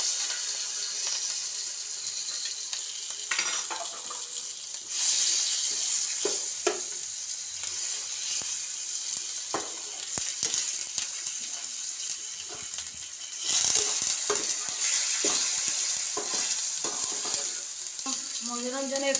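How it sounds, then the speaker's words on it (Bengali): Chopped tomatoes with salt fry in a pan after ginger for a paneer masala, a continuous hissing sizzle broken by repeated stirring scrapes and clatter, close and alone. "নুন দিয়ে একটু টমেটোটাকে ভেজে নেব।"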